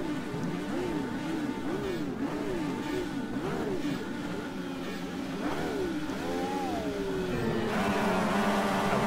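An ISI Indy car engine in the rFactor 2 racing sim revs repeatedly, its pitch rising and falling in quick surges before one higher sweeping climb, a steady mechanical drone throughout with no talking.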